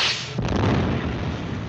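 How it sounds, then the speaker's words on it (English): A warship fires torpedoes in a 1942 naval war film, heard as one loud, close, muffled launching thump with a hissing rush that trails off, with no talking. "Torpedoes fired, sir."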